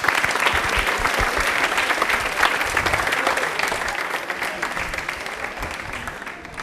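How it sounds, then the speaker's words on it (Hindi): Studio audience at a televised rail-themed quiz programme applauds a contestant who answered correctly, a dense, steady wash of many hands clapping at fairly close range, sustained evenly throughout with no talk over it. "प्लीज एक बार जोरदार तालियां हो जाए विधि के लिए।"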